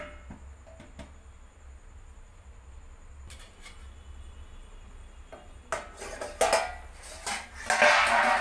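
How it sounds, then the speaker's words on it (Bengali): A metal lid goes onto a cooking pan of lemon pepper chicken: a quiet stretch with faint kitchen clinks, then a cluster of sharp, close metallic clatters and scrapes toward the end. "এবার আমি আবারও চাপা দিয়ে দেবো।"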